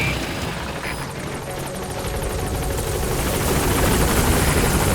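Helicopter arriving at a landing zone in Metal Gear Solid V, with loud steady rotor thumping and engine whine that grows slightly stronger, heard alone.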